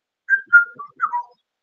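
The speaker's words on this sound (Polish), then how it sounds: "każdy słyszał charakterystyczną piosenkę, taką, w której jest takie charakterystyczne gwizdanie" A catchy whistled melody from a pop song, four short bright phrases of clean tones rising and falling, heard alone against silence.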